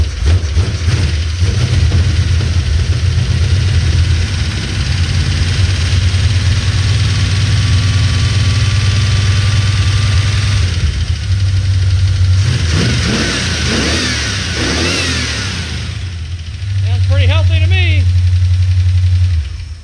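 A Chevy 350 V8 with turbo mufflers, mounted in a 1948 Chevy truck on an S10 frame and still showing a slight lifter tick, idles with a loud, steady low rumble, revving briefly, while a person talks over it.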